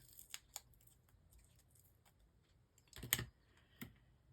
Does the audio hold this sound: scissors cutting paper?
yes